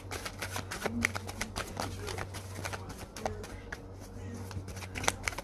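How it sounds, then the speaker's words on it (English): Tarot cards being shuffled and pulled, with dense papery flicks and soft slaps in an irregular rhythm, close and fairly quiet. "And I am going to pull a couple of these cards."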